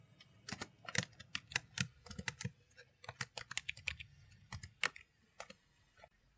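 Rapid keystrokes on a computer keyboard while a file is renamed in animation software, a close, clattering run of clicks in uneven bursts with short pauses and no voice.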